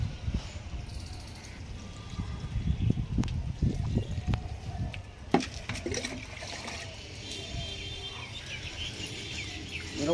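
Water poured over potted chrysanthemum plants and their leaves, heard as irregular splashing bursts that grow stronger midway and then ease off. Steady outdoor insect chirping runs underneath throughout.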